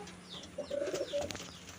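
A Giribaz tumbler pigeon kept in a small room gives a brief, soft throaty coo, faint and close in an otherwise quiet space.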